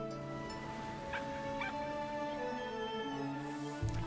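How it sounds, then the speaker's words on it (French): Small dog whimpering and yipping in a cozy video game trailer, soft repeated whines over steady background music. "Il y a un petit chien."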